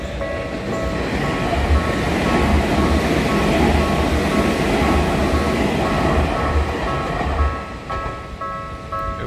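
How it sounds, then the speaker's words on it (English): A train passing at ground level in Tokyo's Jiyugaoka area, a loud continuous rumble and clatter of rolling wheels close by, easing slightly near the end. "we have to wait for the train to pass"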